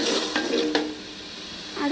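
Carrot mixture cooking down in coconut oil is stirred in a pan, a soft sizzle running under a few quick spoon scrapes and clinks, close and fairly quiet.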